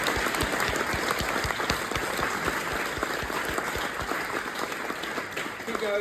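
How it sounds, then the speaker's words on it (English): Audience applause for the Cardiff MFY Ensemble after their performance: dense, steady clapping from a crowd that fills the room, with voices calling out over it and tapering slightly near the end. "Can we please give a massive round of applause to the Cardiff MFY Ensemble?"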